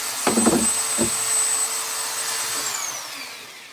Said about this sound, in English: So you're going to hear the dust collector.